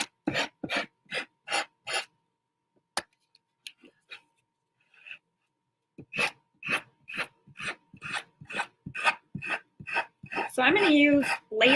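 A dry clay memory tile is sanded in a quick run of rhythmic rasping strokes, then a pause with faint scrapes, then another brisk series of strokes ending in a denser burst of rubbing.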